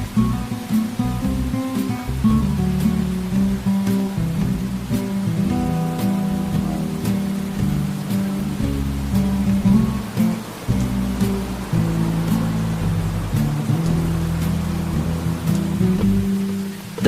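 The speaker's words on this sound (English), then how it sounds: "Look at the rain falling on everything." Steady rain falls on everything outdoors, a continuous dense patter with low rumbling and tonal music-like bands running underneath throughout.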